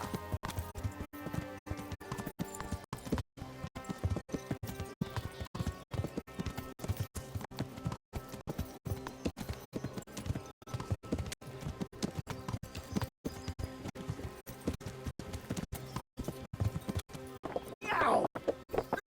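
Rhythmic clip-clop of horse hooves trots steadily throughout while riding in the video game Kingdom Come: Deliverance, with a brief whinny near the end.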